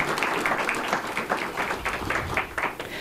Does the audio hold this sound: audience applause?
yes